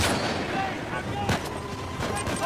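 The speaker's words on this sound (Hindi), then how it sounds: "पीछे से कोई गोली चला रहा है" Video game gunfire in a firefight from Uncharted 4: A Thief's End, a dense run of sharp shots and blasts close together under a continuous battle din, with no talk.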